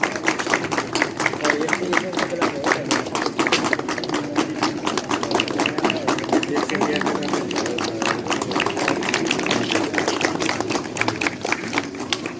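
Audience at a political party gathering in Dang, Nepal, giving a sustained round of dense applause, many hands clapping steadily and evenly at close range for over twelve seconds.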